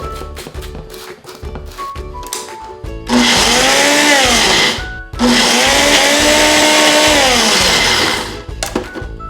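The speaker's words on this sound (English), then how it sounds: "Now we just cover it up and blend again." An electric blender whirs at full speed through a thick sesame and peanut butter filling in two long loud bursts separated by a short pause, with clunks and shaking between runs.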